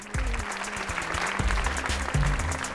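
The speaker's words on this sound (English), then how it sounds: "Let's have another round of applause for Professor David Kaiser" An audience applauds Professor David Kaiser after a lecture on quasars and quantum entanglement, a dense, sustained round of clapping with a few sharp individual claps standing out.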